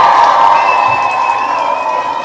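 A lively crowd at a live show cheers and applauds with a loud, continuous roar of claps and shouts from start to finish, with no talking on top.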